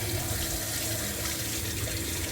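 Steady running water from a tap splashing over red lentils being rinsed in a sink, continuous and close, with no talking.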